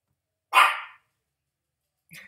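A single sharp dog bark, loud and close, followed after a pause by a short, fainter yelp or bark at the end.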